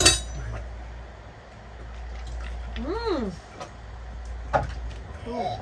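Glasses clink briefly in a toast in a remote Pacific island village, followed by liquid sounds and people talking nearby over outdoor ambience.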